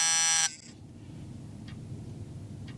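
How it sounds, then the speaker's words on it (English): An HM 552 turn signal flasher relay buzzer sounds close up as one loud steady tone for half a second. A low rumble from a running engine follows, with two faint clicks after it. "to hear my buzzer"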